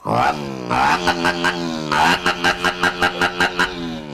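A man vocally imitates a Honda CG 160 motorcycle, loud and close, with buzzing engine-like revs rising in pitch, then a rapid series of rhythmic pulsing bursts like gear shifts and throttle blips.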